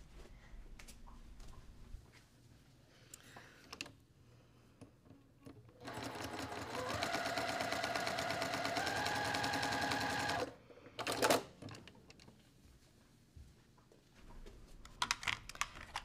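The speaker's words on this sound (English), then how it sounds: "So now I'm going to stitch on the line." A sewing machine stitches along a line on a quilt block. After light handling clicks it runs steadily for about four seconds, then stops, followed by a few quieter taps and rustles.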